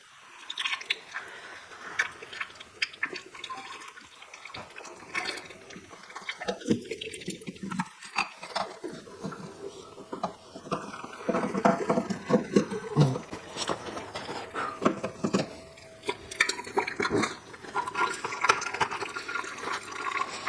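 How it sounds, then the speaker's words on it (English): Engine oil draining from a Toyota Auris during a service, a continuous liquid pour and trickle with wet splashing and occasional clicks, fairly close, lasting throughout without talk. "Open it slowly to drain the oil inside."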